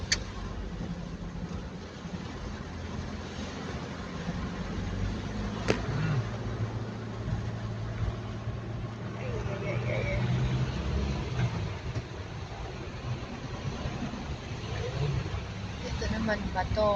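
Steady road traffic of cars and other vehicles backed up by a landslide, with a continuous engine and tyre rumble close by and occasional louder passes throughout.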